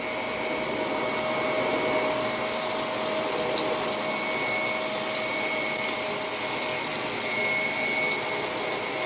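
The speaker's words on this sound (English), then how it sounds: "you can hear the fans kick up, or the rollers kick up" A Ninja Shark vacuum cleaner runs steadily with its fans and brush rollers on, a loud continuous whirring roar with a high whine, close and unbroken, with no talking.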